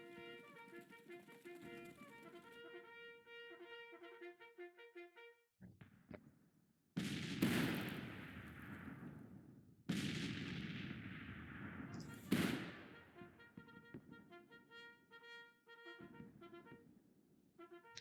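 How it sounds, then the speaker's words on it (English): Gunfire in the Grand Tactician Civil War video game: heavy musket volleys crack out around 7, 10 and 12 seconds with rumbling tails, between stretches of tonal music. "And Martindale, let's go ahead and stand up. And fire at him."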